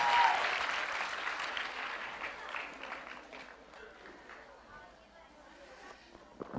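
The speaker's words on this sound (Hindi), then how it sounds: "तालियां बजाइए आपके लिए" An audience at a Hindi quiz show about Dev Anand applauds a contestant, a burst of clapping that starts loud and gradually fades while voices talk over it.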